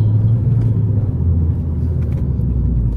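A Peugeot 208 GTI from 2013 launches with the clutch released too early, giving a loud, close, heavy engine rumble that stays steady through the moment, with no voices over it.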